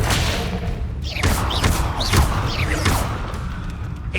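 Confringo spell blasts in the Hogwarts Legacy video game land as a series of whooshing casts and heavy thuds, several bursts in quick succession over a dense rumbling combat backdrop.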